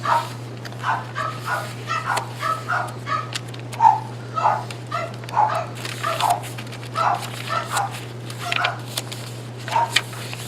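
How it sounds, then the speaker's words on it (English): Repeated barking and yipping from French bulldogs upstairs, in irregular bursts over a steady low hum, with no talking. "You hear my little Frenchies upstairs."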